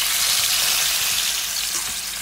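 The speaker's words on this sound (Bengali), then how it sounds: "এখন দেখো আমি এই মাছগুলোকে ফ্রাই হতে দেব।" Koi fish fry in hot oil in a pan, a close, steady crackling sizzle with faint bubbling that holds at an even level throughout.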